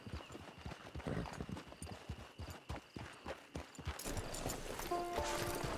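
Horse hooves clip-clopping in the video game Red Dead Redemption 2, a steady rhythmic trot of close, crisp hoofbeats that gives way to softer ambient game sound near the end.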